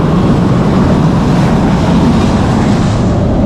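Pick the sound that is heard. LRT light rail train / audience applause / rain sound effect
LRT light rail train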